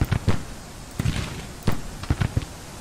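Civil War artillery guns in Grand Tactician: The Civil War boom in a ragged series of dull, thumping blasts, some doubled, scattered across a few seconds at moderate distance with no talking.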